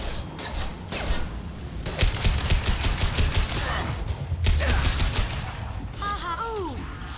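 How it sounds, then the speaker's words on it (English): Heavy gunfire in Mass Effect, with rapid rattling automatic bursts, clanking mechanical noises and shattering impacts that come loud and close in waves, ending with a few whooshing effects. "Taking heavy fire."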